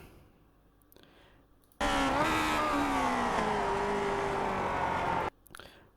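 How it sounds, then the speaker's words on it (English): Lotus 49 race car in iRacing braking hard and downshifting to second gear, a loud sustained engine roar with falling pitch as revs drop, close-up and alone, bracketed by quieter engine sound. "We will brake down to second gear."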